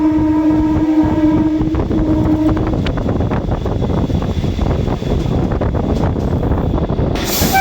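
An EMU local train runs at speed while racing an ALCO locomotive, giving a loud, continuous rumble of wheels and wind buffeting, with a sustained tonal hum early on, heard from aboard the moving train.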